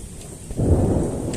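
A Kal Baisakhi nor'wester storm with heavy rain: a deep, loud thunder rumble swells up about halfway through and rolls on steadily under a broad wash of rain, with no voices.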